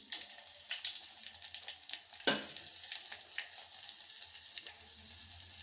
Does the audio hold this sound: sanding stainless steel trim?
no